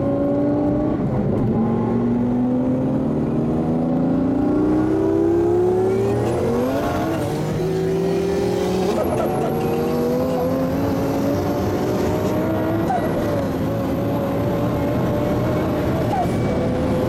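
An Underground Racing Lamborghini Gallardo and a VR Racing Porsche 911 Turbo launch in a drag race, engines rising in loud, sweeping pitch climbs with audible gear changes, heard from nearby.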